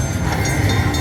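The train animation on a Cash Express Luxury Line slot machine plays a loud, steady rumbling rail sound with a rhythmic clickety-clack, filling the moment alone without voices.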